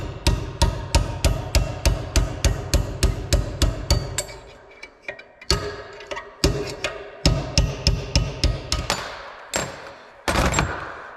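Repeated sharp hammer blows ring out as an old, worn, cracked bushing is driven out of a field cultivator, loud and close in fast steady runs with short pauses between bursts of metallic strikes.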